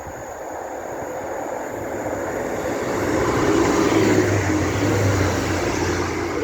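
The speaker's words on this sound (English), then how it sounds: "The next train to be coming through will be another Class 195 for Northern, running from York to Leeds." A Northern Class 195 diesel multiple unit passing through Church Fenton station on the East Coast Main Line, a steady rumbling roar that swells and holds as the train goes by, with no talk.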